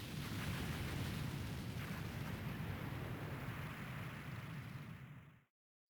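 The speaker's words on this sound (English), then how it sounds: "I looked back at the chapel and the destruction caused by the explosion that spread from the altar" An explosion spreads from a chapel altar in the game Suikogaiden as a long, steady roaring rumble, fairly faint overall, that holds for about five seconds and then cuts off into silence.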